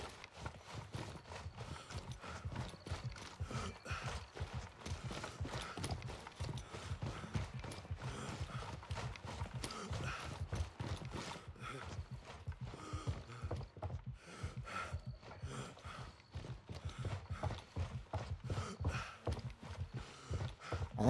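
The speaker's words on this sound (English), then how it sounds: "I think I hear footsteps" Rapid, continuous stream of footfalls and clattering in a video game, dense and rhythmic for about twenty seconds, with mechanical ambience and no talking.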